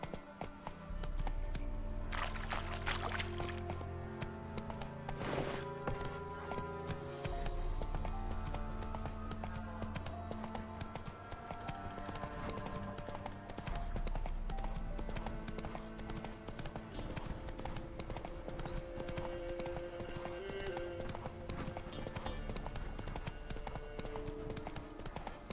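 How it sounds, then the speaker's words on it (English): Horse hooves clip-clop steadily in The Witcher 3: Wild Hunt, a continuous trotting rhythm carried through the whole stretch beneath a loud, layered orchestral game score, with no talking. "Whoa there, Roach."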